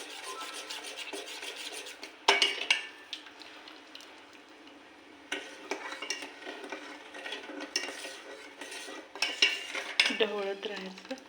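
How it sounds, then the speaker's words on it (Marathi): Sugar syrup for rava laddoo being stirred in a pan, with intermittent metallic scraping and clinking of a spoon against the pan in irregular bursts, close and moderately loud. "ढवळत राहायचं."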